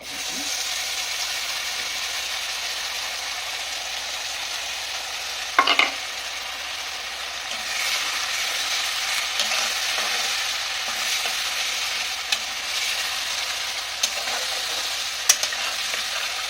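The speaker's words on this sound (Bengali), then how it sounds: "ওই যে বাটা মশলাটা বেটে রেখেছিলাম" Ground spice paste fries in ghee for egg rezala, a dense, continuous hiss of sizzling that holds steady throughout, with an occasional brief knock or scrape of a utensil.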